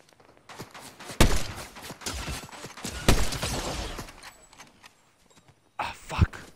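Gunfire in a video game, several sharp bursts of shots, two loud volleys followed by quieter stretches and a final burst, with a player talking faintly between them.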